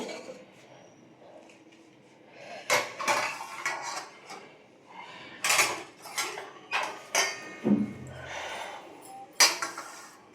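Rice being served at home, with dishes and cutlery clinking and scraping in bursts, close and moderately loud, and some faint talk in the background.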